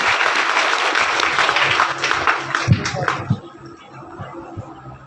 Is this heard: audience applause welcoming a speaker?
yes